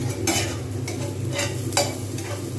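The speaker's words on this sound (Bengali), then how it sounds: "তাও আমি এখনো ভেজে যাচ্ছি।" Onions frying in a pan for an egg curry, a close steady sizzle broken by several brief scraping stirs of a spatula against the pan, with no one speaking.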